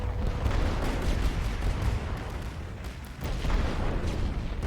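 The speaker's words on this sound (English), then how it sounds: "so I'll hit them with artillery" Artillery barrage in a First World War Western Front strategy game: a continuous dense rumble of distant guns and explosions, deep booms layered over one another without pause.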